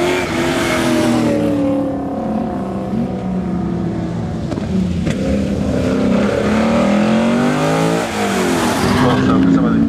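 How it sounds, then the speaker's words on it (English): A Toyota Corolla Group 1 X-Works rally car races on a live show stage, its engine loud and close, rising and falling through the gears, with a commentator's voice over it. "the Toyota Corolla, which we've got there, Charlie Gabb in the Corolla, a Group 1 X-Works rally car"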